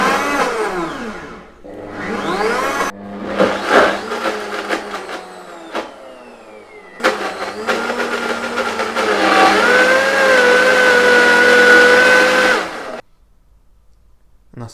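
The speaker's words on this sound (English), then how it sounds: "And then you just want to blend it until you get a nice smooth mixture." A blender whirs as it purees a wild garlic butter mixture, starting and stopping in short bursts before a long, steady, loud blend whose pitch shifts as the mixture smooths out, then cuts off.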